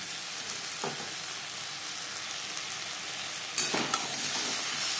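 Mixed vegetables with ridge gourd sautéing over high-to-medium flame for a light fish curry: a steady hiss with two short scraping stirs, one early and one near the end.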